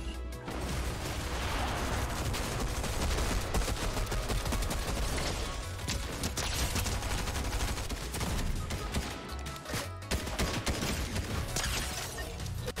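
Fortnite Zero Build match with dense, sustained gunfire: rapid bursts and crackling shots overlapping loudly and almost without pause across the whole stretch.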